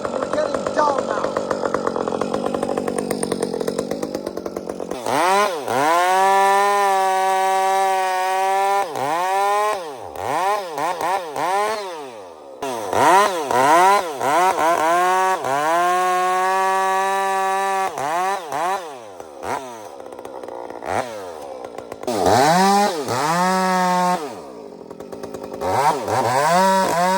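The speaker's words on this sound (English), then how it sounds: "Some of these high revving saws don't have the bottom end." A Stihl-style 564 chainsaw cuts firewood, revving in repeated bursts that rise to a high whine in the cut and drop back to idle between cuts, loud and close throughout.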